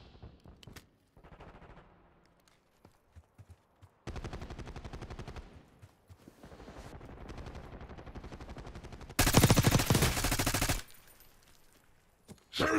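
Call of Duty Black Ops 6 gunfire: scattered single shots, then long rapid automatic bursts that grow louder and denser before cutting out, with no speech.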